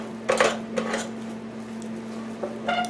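Spoon or fork scraping against a bowl while mixing keto fat head pizza crust dough, a few close clinking scrapes in short bursts over a steady low hum, no talking.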